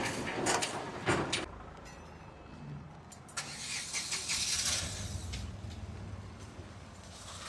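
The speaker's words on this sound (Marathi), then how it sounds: "गाड्या पण चालतायत" Cars and other vehicles pass along a road under construction, a steady mid-distance traffic rumble with a few louder swells as vehicles go by, and no talking.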